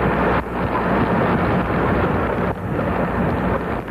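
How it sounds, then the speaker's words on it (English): Hurricane Andrew's winds and rain lash the Gulf coast near Morgan City, Louisiana, a loud, continuous roaring rush of wind buffeting the microphone with driving rain, surging and dipping slightly in strength, with no voices. "As the winds and rain kicked up, the swirling clouds of a fierce Gulf storm were visible in the fading light."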